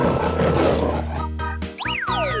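A lion roars in a 3D animal video game, a loud, rough growl of about a second and a half, followed by bright cartoonish sliding and boinging game effects.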